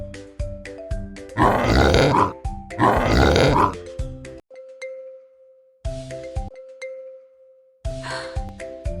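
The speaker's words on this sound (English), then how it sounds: "This is a pig." A pig gives two close, rough, raspy grunting bursts over light children's backing music with chiming tones.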